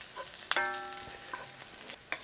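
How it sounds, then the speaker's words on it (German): Garlic hits a hot pan and roasts with a soft sizzle, a sharp clatter at the start, then quiet crackling frying that fades, with another brief knock near the end. "den Knoblauch gebe ich jetzt mit rein. Der röstet jetzt ja quasi ein bisschen mit, weil die Pfanne einfach genug Temperatur noch hat."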